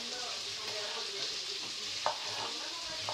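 Onions that have turned past translucent are sautéing in a pan, making a steady close sizzle with scraping stirs and a sharp clatter partway through, and no talking.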